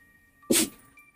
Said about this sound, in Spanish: De momento está estornudando nuestro perrito